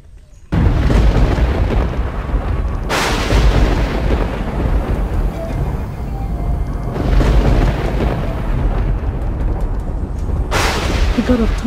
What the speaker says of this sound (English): The god of thunder just confirmed it.